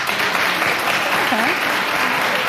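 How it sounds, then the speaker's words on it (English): A TV talk-show studio audience claps steadily in a brief burst while people talk over it. "Clap if it's okay."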